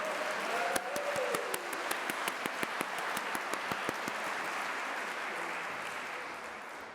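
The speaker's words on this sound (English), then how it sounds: "A huge round of applause, please." A crowd applauds steadily, with a few sharp individual claps standing out early on before the clapping gradually fades.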